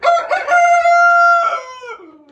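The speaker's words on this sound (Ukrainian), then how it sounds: "Півників аж 6 штук. Тому тут співи іноді такі бувають серйозні." A rooster crows loudly and close by, one long drawn-out cock-a-doodle-doo with a rising start and a trailing, fading end.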